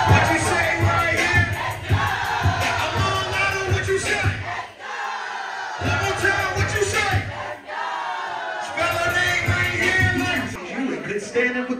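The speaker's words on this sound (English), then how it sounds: "Make some noise for Chulo" A party crowd at a birthday celebration in a club, cheering and shouting loudly in repeated waves with brief dips between, mixed with music and voices.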